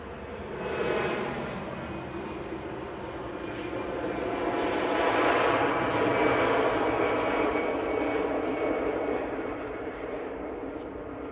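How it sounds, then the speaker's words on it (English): An easyJet airliner departs Manchester Airport for Malaga, its engine roar swelling to a broad, steady rush through the middle and easing slightly toward the end, moderately loud and continuous. "Just get this Easyjet to Malaga."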